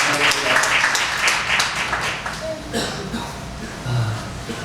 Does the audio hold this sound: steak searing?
no